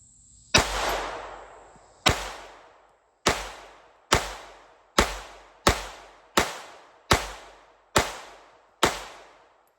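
Ten sharp pistol shots of S&B .32 ACP full metal jacket ammunition ring out one after another at a steady pace, each crack trailing into a short echo.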